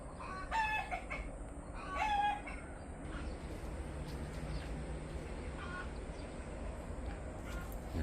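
Farmyard chickens sound near a bonsai maple garden: a rooster crows twice in quick succession early on, and soft clucking and low background noise follow. The sounds are fairly faint and distant.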